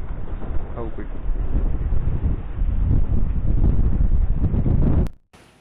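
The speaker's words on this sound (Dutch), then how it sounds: "De wind is goed koud." Steady wind buffeting the microphone on a boat at sea along the English coast near Beachy Head and the Seven Sisters, a loud continuous low roar with rushing noise that cuts off abruptly near the end.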